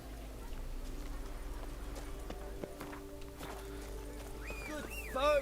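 Horse hooves clip-clopping at a steady walking pace in The Witcher 3 video game, faint under game ambience and music, with a brief whinny-like rising sound near the end.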